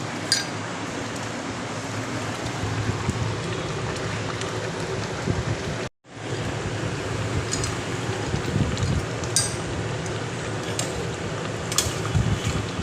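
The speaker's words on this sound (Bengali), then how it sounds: "কি সুন্দর ফুটছে টকবক করে।" Fish curry boils in a kadai, giving a steady, dense bubbling and crackling hiss like rain on a surface, nearly unbroken with one brief dropout and occasional small pops.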